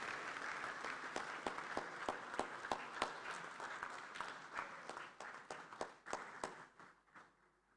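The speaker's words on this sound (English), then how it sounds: "Please, a round of applause for her." An audience at an African inter-parliamentary conference on family and values applauds, with rhythmic, fairly distant clapping that stays steady before thinning out and fading away.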